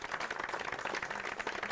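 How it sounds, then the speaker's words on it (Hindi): Dense applause from a gathered farming audience at an outdoor rural forum in Baghpat, Uttar Pradesh, a steady crowd of many hands clapping together, loud and close, with no speech over it. "जोरदार तालियां अपने लिए भी।"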